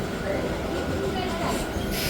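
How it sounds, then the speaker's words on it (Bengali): A local train pulls out of Kolkata station on a journey from Majherhat towards Barasat, its steady rumble and rattle filling the clip while voices and station noise sit in the background. "ট্রেন আমাদের ছেড়ে দিল কলকাতা স্টেশন"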